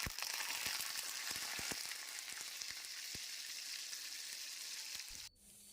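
Ground raw mango chutney hits hot oil with popped mustard seeds and curry leaves, giving a loud, close, steady sizzle with scattered crackles and stirring clicks that cuts off abruptly near the end.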